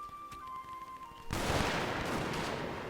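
A musket volley erupts in a French army battle game, a sudden loud crackling massed discharge that rolls on and lingers after a quieter opening stretch.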